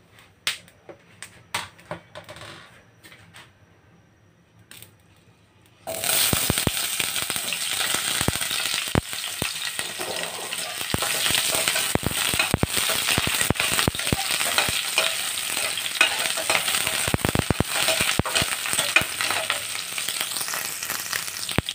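Chopped onion hits hot oil in a pan for a milkfish and camias sinigang, setting off a loud, continuous sizzle that begins abruptly after a few quiet seconds and runs steadily to the end, with crackling pops throughout.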